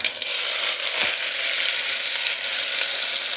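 Chopped onions frying in a small amount of oil with mustard seeds and curry leaves, a steady close sizzle that holds evenly for a few seconds with no talk.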